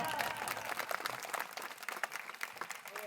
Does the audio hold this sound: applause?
yes